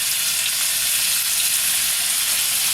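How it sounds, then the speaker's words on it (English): Chicken portions sizzle and crackle steadily as they brown in hot oil in a frying pan, a dense, continuous frying hiss with no talking. "we've just got a little bit of hot oil in a frying pan"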